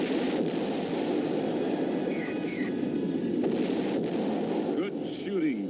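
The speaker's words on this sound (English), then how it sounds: "Stand by for blastoff" A rocket blastoff roars as a steady, dense rumble that fills the whole span without letup, loud and continuous from start to finish.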